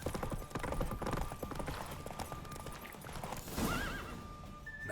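Roach the horse in Witcher 3 gives a clear whinny while hooves clip-clop steadily nearby, the neigh rising toward the end over the galloping rhythm.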